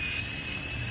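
Small Sky Rover Vigilante toy drone with a steady high-pitched whine from its spinning propellers, loud and continuous as it comes down to land.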